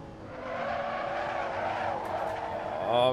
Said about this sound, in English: Oh, we've got a bit of a drift on.